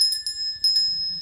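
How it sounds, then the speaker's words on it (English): A small hand bell rings twice in quick succession, bright and close, its clear metallic tone lingering between and after the strikes in an otherwise quiet room. "I'm going to hand you the bell"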